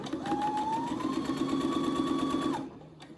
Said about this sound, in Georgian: შავზე ქსოვილის ნაჭერს გავასწორებ. Და წითელზე მოდის კერვა.